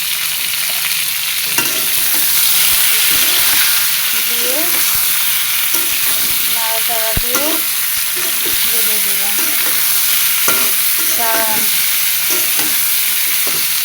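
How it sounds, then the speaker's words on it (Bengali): Frying in a pan for a fish curry with ridge gourd and potato, with a loud, steady sizzle, repeated scraping stir strokes, and brief muffled voices in the background. "ভেজে দেব"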